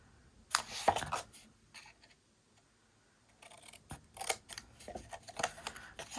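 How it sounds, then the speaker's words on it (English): Scissors snip through paper corners for a Halloween-themed 4x5 pocket mini album, several crisp close cuts in two clusters separated by a brief quiet pause, no speech. "so I'm going to cut these corners off"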